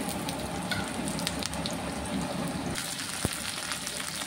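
Curry leaves tempering in hot oil with dried chilli powder and garlic, a loud continuous sizzle and crackle close by, shifting in texture partway through with a sharp pop near the end.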